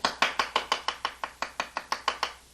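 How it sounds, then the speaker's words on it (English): A chef's knife slices an onion on a cutting board in quick, even chops, about a dozen crisp close strikes in steady rhythm with no talking. "Slice your onion into thin slices, and then with your chef's knife,"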